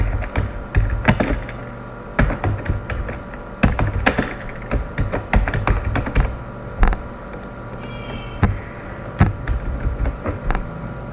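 Rapid typing on a computer keyboard while entering text in an Excel spreadsheet, with irregular bursts of close, crisp key taps and a few heavier thunks, and no voice.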